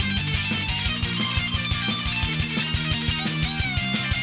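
A guitarist's first guitar solo from a song, a fast distorted electric lead played with hybrid picking, rapid, evenly spaced plucked notes in a tight driving rhythm, loud and upfront with no talking.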